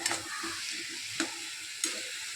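Leafy vegetable curry frying in a pan indoors, stirred steadily with a low sizzle underneath and three sharper scrapes of the utensil against the pan standing out.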